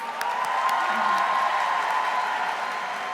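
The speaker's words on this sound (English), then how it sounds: "they deserve a huge round of applause" At a student conference event in Seattle, an audience applauds the staff and interns with a steady, moderately loud wash of clapping and light cheering, slightly distant and sustained throughout.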